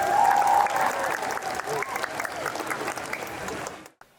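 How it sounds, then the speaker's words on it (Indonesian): Applause from the audience at a pesantren anniversary gathering, greeting a guest of honour. The clapping is loud and dense at first, then thins out and trails off into silence. "Tepuk tangan untuk beliau."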